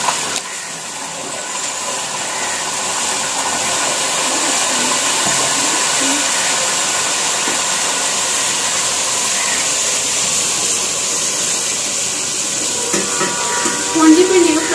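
Okra frying in hot ghee gives a steady, broad sizzling hiss that holds evenly throughout, close and fairly loud, with no voices.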